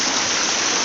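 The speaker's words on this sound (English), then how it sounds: "the other water's running through there off into the bush" Water runs and leaks through a dam of boulders into the bush, a brief, loud, steady rush of flowing water with no voices.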